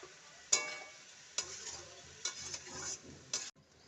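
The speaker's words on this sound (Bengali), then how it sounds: "এবার বেথো শাকটাকে এর মধ্যে দিয়ে দেব। লবণ, হলুদ দিয়ে দেব।" Bathua greens frying in a pan with salt and turmeric make a faint, soft sizzle broken by several sharp scrapes and taps of a stirring spoon, without speech.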